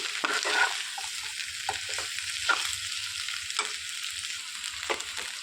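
Salted brinjal and dried fish curry is stirred in a pot, a spoon scraping and knocking several times over a steady close sizzle, with no voices.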